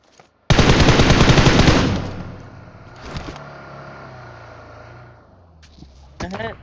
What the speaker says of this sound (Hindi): गन फाइट हो रही है वहां